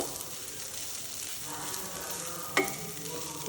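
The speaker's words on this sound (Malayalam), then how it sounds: "ഇതിൽ തന്നെ മുളക് ചതച്ചത് ചില്ലി ഫ്ലെക്സ് അതും ഇട്ട് കൊടുക്കാം. എന്നിട്ട് നല്ലോണം വഴറ്റിയെടുക്കാം." Crushed chili flakes sizzle and fry in a pan, a continuous soft crackle with the occasional stir and one sharper clink of a utensil near the end.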